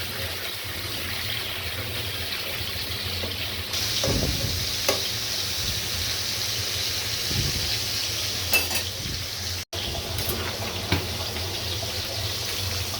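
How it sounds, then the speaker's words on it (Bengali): Five pieces of fish, heads on, shallow-frying in oil in a pan, giving a steady broadband sizzle throughout with a few brief clatters and stirring knocks over it, close and fairly loud. "মাছটা আমার ভাজা হয়েছে।"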